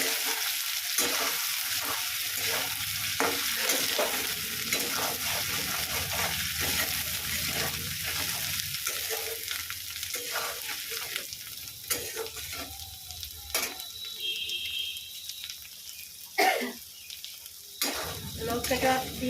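Chili paste frying in a pan for a Bengali fish curry with potato, eggplant and taro, a close crackling sizzle broken by repeated scraping stirs and utensil clatter near the end.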